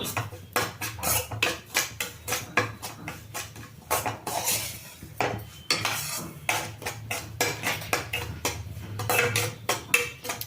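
Semolina (rava) roasting in a metal pan while a spoon stirs it, giving steady scraping and clinking strokes in a quick repeating rhythm, close and fairly loud, with no voices.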